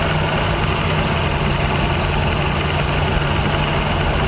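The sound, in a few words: 1979 Chevy G20 van engine running, carburetor loading up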